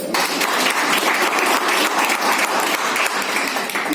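Dense audience applause in an indoor talk or seminar setting, steady and loud throughout, many hands clapping together with no pauses.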